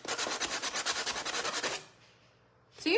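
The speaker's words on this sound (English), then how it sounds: "I'm just scuffing it up a little bit." Painted wooden bird house surface being scuffed by hand, about fourteen quick rhythmic rubbing strokes up close, then a short pause before another brief scrape.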